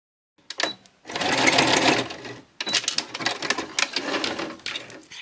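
A sewing machine stitches a scrap fabric embellishment onto backing in free-motion runs: a brief burst, then a long steady whir, a short pause, and another longer run with uneven speed, close and fairly loud.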